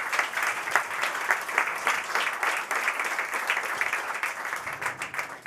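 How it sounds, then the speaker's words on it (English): Moderate, continuous clapping from a conference audience at a climate action summit in London as a guest walks onstage, a dense patter of many hands without breaks. "Please give her a round of applause as she makes her way to the stage."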